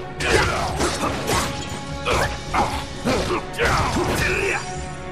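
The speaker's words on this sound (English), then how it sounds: "The clink of metal hitting the ground can be heard." In the video game Dragon's Crown, metal clinks and clatters against the ground in repeated loud, close bursts of jangling impacts, spread at an uneven rhythm across a few seconds.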